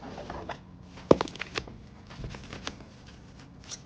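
Scissors tugging a metal drapery hook through pleated curtain fabric, a quiet cluster of small clicks and rustles with one sharper snap near the start, close and soft with no talk.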